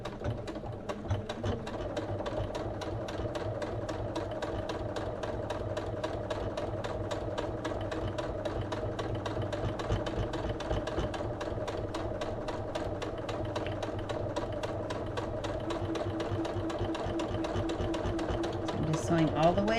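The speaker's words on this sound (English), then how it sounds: "So I'm gonna do a top stitch all the way around the project" A sewing machine runs top stitching on fabric, a fast, steady mechanical chatter that continues for the whole stretch, close and moderately loud, with a person's voice coming in under it.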